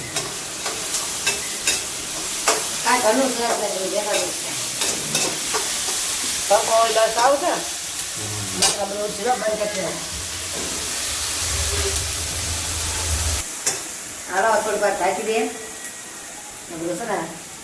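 Onions and tomatoes sauté in a pan with a steady frying hiss and occasional stirring scrapes, while people talk intermittently over it.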